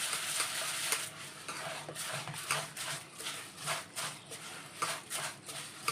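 Ration rice is washed in water by hand, close up: repeated rhythmic swishes and gritty scrapes against a pot.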